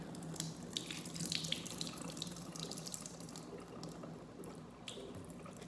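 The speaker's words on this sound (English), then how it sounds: "I'm gonna dump this water out" Water pours and splashes out of a jar of sprouting wheat berries in a steady, gurgling stream, close by, with a few small clinks.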